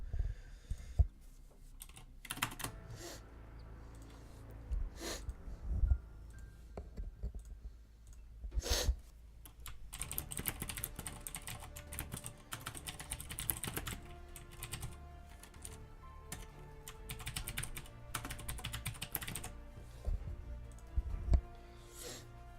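Fingers tap out a message on a computer keyboard in steady bursts of clicks, close and fairly quiet, with brief pauses between runs of keystrokes.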